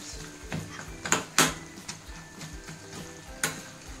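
Chicken pakoda fries in groundnut oil with a steady close sizzle, while a utensil stirs and scrapes the pan, adding several sharp metallic clinks.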